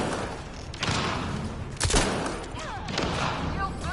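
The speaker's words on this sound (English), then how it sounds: "This thing's like a freaking grenade launcher." Grenade launcher fire in the video game Mass Effect Andromeda, heavy booming shots and thumps over a dense, noisy battle din with a sharp loud blast near the middle.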